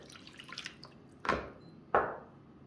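Warm water goes into a mixing bowl for bun dough, heard as two quiet, distinct splashes a moment apart. Faint background clatter sits underneath.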